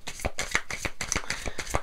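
Tarot cards handled on a table, one laid over another, giving a run of quick papery slaps and shuffling flicks about five times in two seconds, close and moderately loud with no talking.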